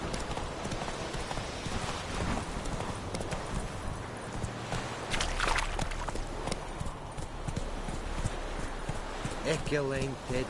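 Roach's hooves clip-clop at a gallop in The Witcher 3, a fast steady rhythm up close, with a brief whinny near the end while a voice talks over the game.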